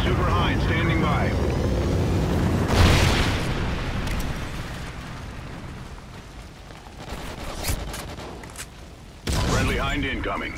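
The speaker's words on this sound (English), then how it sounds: "Trinity rocket inbound." Trinity rocket strikes explode in Call of Duty Ghosts during a free-for-all match, loud booming blasts hitting near three seconds and again near the end over a constant roar of gunfire and aircraft, with game voice callouts in between.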